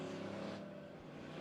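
Dirt track race cars at a green flag start at Monett Motor Speedway, a dense engine roar that swells then eases slightly, distant and steady, no talking.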